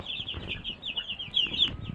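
Young broiler chicks in a small poultry pen give a steady run of high, thin peeping chirps, close and continuous, with faint rustling underneath and no talking.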